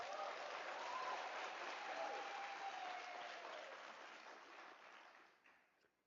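A large crowd applauding at a UNISA autumn graduation ceremony, with dense, sustained clapping that fills the space and then fades gradually toward the end.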